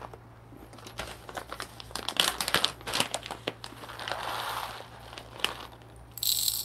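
A brand new bag of coffee beans is handled and crinkled up close, with irregular crackling plastic rustles and crisp snaps that are loud in bursts, set in an otherwise quiet room.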